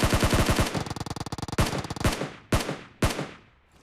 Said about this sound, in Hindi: वहाँ पे अभी भी फायरिंग हो रही है, मतलब वहाँ पे और भी बंदे हैं